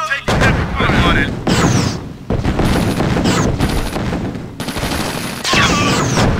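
Battle gunfire in Command & Conquer: Tiberian Sun, heavy continuous volleys and booming artillery-like bursts, loud and dense, with short game voice callouts mixed in.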